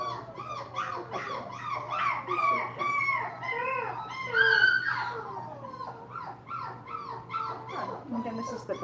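Toller puppy whimpering, yipping and howling at bathtime, a run of high, wavering cries close by. A steady low hum sits underneath, and someone talks over the sounds.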